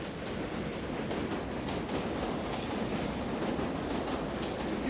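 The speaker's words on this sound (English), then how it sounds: "we heard that sound that you just heard, that overhead elevated sound" An elevated subway train rumbles past overhead with a steady roar and faint rhythmic clatter of wheels on rails, constant and enveloping, with a brief squeal near the end.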